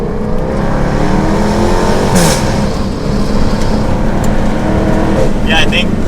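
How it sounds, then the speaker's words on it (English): Jaguar F-Type R AWD engine heard from inside the cabin with a window cracked open on a mountain drive, a steady loud low rumble with road roar throughout and a brief higher rasp partway, people talking over it. "When you put the top down or the windows down even, then you get to hear that engine even louder."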